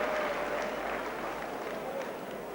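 A very enthusiastic stadium crowd at a 1985 St Helens versus New Zealand rugby league match applauds a long kick, a dense sustained roar of clapping and cheering heard at a distance, with commentary talk over it.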